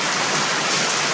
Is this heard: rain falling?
yes